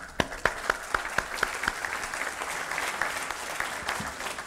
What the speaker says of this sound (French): Nous vous applaudissons, merci.